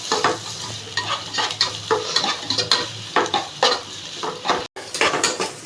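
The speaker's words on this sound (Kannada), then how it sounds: "ಇವಾಗ ಈರುಳ್ಳಿ ಬ್ರೌನ್ ಆಗಬೇಕು." Onions frying in a pan until brown for mote palya, stirred briskly with a metal spoon. Rapid, repeated scraping clinks run over a steady close sizzle, with no talk.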